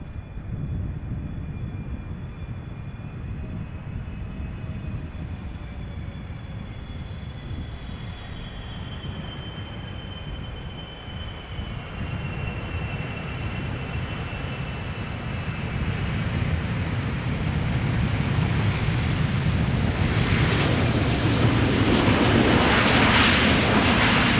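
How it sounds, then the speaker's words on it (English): A Transavia Boeing 737 arriving from Olbia lands at Schiphol with idle reverse thrust, a steady broadband jet roar that grows louder and brighter toward the end as the aircraft nears, with no talk. "Idle reversal landing, by the sound of it."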